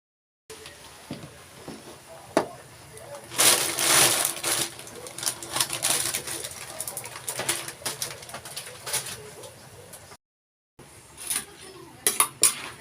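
Pancit canton noodles cooking in a pan with metal utensils at home: steady clattering and scraping of utensils against the pan, with sizzling, a brief gap and a few sharp clinks near the end, under a background of faint sounds.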